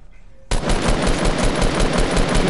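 Rapid, sustained automatic gunfire from a video game erupts suddenly after a brief quiet moment, continuing loud and dense as a steady rattling burst to the end.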